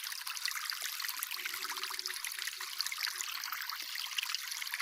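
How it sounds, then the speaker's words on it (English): Steady trickling and pouring water from crops being watered in the VR farming game Harvest VR, a soft continuous stream with no talk. "I gotta hurry up and water all this"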